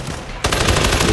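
Machine-gun fire from the video game Arena Breakout opens as a loud, rapid burst of shots after a short pause, continuing steadily close up.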